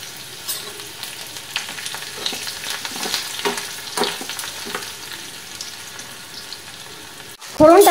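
Whole cumin, chopped garlic and a little ginger fry in hot oil as a tempering, a close steady sizzle with crackles and stirring scrapes, ending in a sharp louder clatter.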